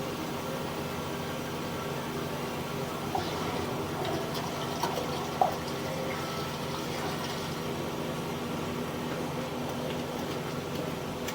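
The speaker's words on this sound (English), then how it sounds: "Let me turn on the water just to help me push this camera" Water runs continuously into a sewer line during a main lateral inspection, a steady hissing rush with a few faint knocks, heard alone without talk.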